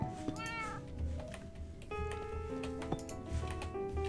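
A cat meows in Minecraft Java Edition 1.19.4 survival: a few short, rising-and-falling meows near the start, then sustained tonal game sounds over a low rumbling background.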